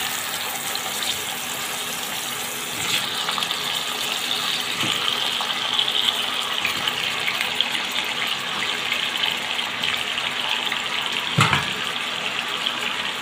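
Sponge gourd pieces dropped into hot oil in a pan, giving a continuous hissing sizzle with a few clatters, steady throughout and heard without any talking.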